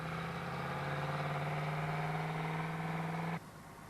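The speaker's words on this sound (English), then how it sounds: "when it comes to pulling away at idle with a heavy load, Massey takes off and keeps on moving" A Massey Ferguson 4000 series 4WD tractor engine runs at low idle with a steady, even diesel drone, then the note drops off abruptly near the end. No one speaks.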